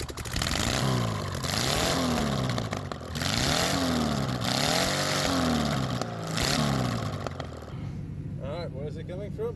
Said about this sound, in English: there's a mandatory engine start.